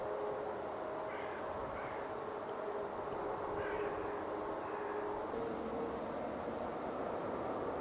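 A Cathay Pacific A350 airliner taxis at Manchester Airport after landing gear problems, its engines producing a steady, broad, continuous roar with a faint whine throughout.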